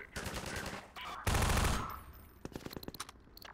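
Gunfire in the video game Half-Life 2: a quick burst of rapid shots, then one loud blast, then a trailing run of sharper shots, all close and punchy.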